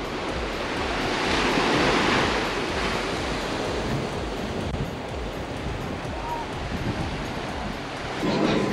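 Atlantic surf roars near the shore in a continuous, loud, wind-buffeted wash of waves that swells and eases slightly, with no clear voices.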